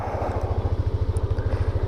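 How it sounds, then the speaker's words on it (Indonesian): A Yamaha Lexi 125 scooter with bore-up engine and double shocks ridden, captured from a helmet camera: a close, steady pulsing engine drone with rhythmic low throb under rushing wind noise. "saya akan coba motor ini berkeliling dari helmet cam"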